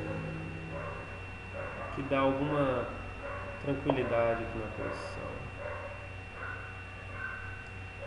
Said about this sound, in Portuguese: Estão latindo que nem louco.